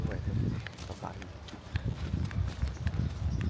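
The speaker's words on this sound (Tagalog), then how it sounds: "Kabayo eh. Kabayo." A horse's hooves clop along a street in Bacolod, a quick irregular run of sharp knocks fairly close by, mixed with background voices and bustle.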